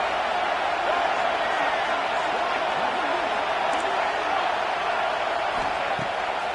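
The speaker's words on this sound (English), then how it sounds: "Decibels rising as the crowd gets behind this defense on 3rd down." A college football video game crowd keeps up a steady, loud roar on a defensive third down, while a commentator talks over it.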